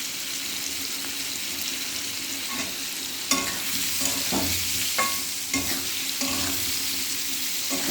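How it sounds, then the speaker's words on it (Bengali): Boiled potato curry with turmeric and peanuts being stirred in a pan, a continuous close sizzle punctuated by irregular spatula scrapes and knocks that grow busier in the second half, no one speaking. "এই নাড়াচাড়া করতে করতে মাখা মাখা হয়ে যাবে"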